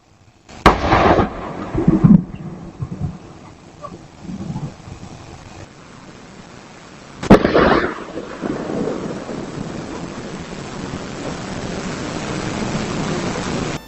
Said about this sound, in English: I immediately knew that that sounded like a 30-aught. The big boom and then the echo